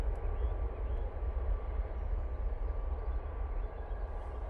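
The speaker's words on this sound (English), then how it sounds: "Ryanair, now on the roll." A Ryanair airliner rolls down the runway for takeoff at Manchester Airport, a steady, heavy low engine roar heard from a distance with no voices.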